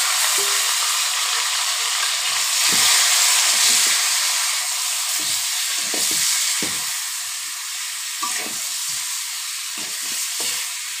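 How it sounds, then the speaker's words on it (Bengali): Fish heads seasoned with turmeric and salt fry in hot mustard oil, giving a loud, continuous bright sizzle close up, with soft bumps and scrapes of stirring now and then and no voices. "মাথাগুলো ভেজে নেব।"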